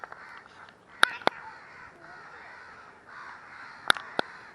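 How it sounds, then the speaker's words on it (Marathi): A crow tangled in kite string up in a tree caws in two sharp pairs of calls, loud and close against a quiet outdoor background. "झाडावर कावळा अडकला आहे"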